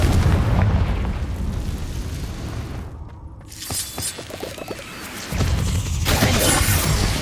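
In the video game Hogwarts Legacy, a Confringo blasting spell sets off booming explosions: a loud blast, a sudden cutout, then crackling bursts and another heavy roar.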